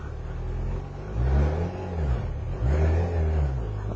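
A 2008 Yamaha FZ1 motorcycle pulls away with its engine revving up twice in rising, throaty pulls, loud and close, each climb easing off briefly before the next.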